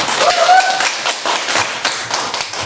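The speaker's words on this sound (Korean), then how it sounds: "박수로 모시겠습니다" A crowd applauds with dense, steady clapping that goes on throughout, loud and close, with a faint tone rising briefly near the start.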